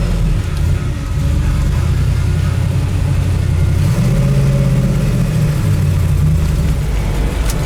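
1965 Chevelle V8 pulling away from a third-gear start, a loud, close, deep engine drone that rises in pitch steadily after a brief dip, heard alone without talk.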